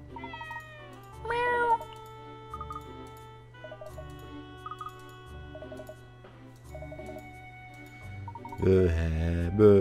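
A cat meows repeatedly in Layton's Mystery Journey, short tonal calls spaced over a plinking game music loop, ending with a louder, longer burst of sound.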